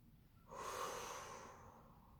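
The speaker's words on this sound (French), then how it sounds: "On va juste respirer là tranquillement." A slow, calm breath taken in a seated yoga pose, arms crossed to hold the opposite elbows. It is one soft, airy inhale lasting over a second, close and quiet, with no talking.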